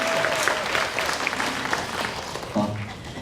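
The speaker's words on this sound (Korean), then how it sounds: "힘찬 박수로 모시겠습니다." Renewed applause from a forum audience in Eunpyeong greeting a panelist, a moderate, even patter of many hands with faint voices and bits of room noise mixed in, swelling slightly near the end.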